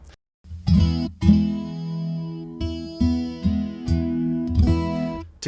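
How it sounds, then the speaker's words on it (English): Electric guitar played through an amplifier with a chorus effect, a run of sustained, shimmering notes and chords struck one after another, with a warbling, doubled quality and no voices. "The chorus control allows you to mimic the sound of multiple guitars."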